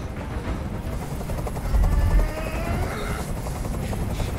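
A helicopter in the video game Detroit: Become Human drones steadily nearby, its rotor thudding continuously and swelling slightly louder midway.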